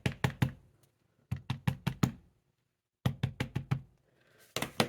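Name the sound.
closing the door of a MISTI stamping tool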